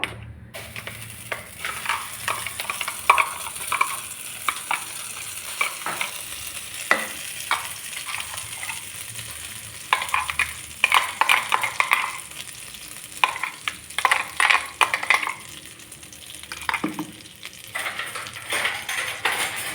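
A finely ground spice paste for a pea kachori filling frying in a kadai, with loud, continuous sizzling broken by repeated scraping and stirring strokes of a utensil against the pan.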